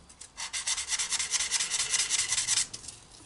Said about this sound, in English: we'll clean them up in the back of the hobby blade. Get all the burrs away